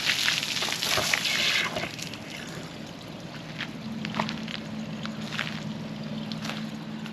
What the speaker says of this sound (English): I'm going to take a minute here, fill up the reservoir